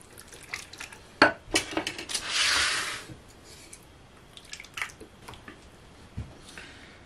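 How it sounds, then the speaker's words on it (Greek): A mix with thyme, anise and oregano stirred in a bowl: soft wet squishing and scraping, scattered clinks of a utensil against the bowl, and one longer rushing scrape in the middle, close and fairly quiet. "Ανακατεύουμε καλά"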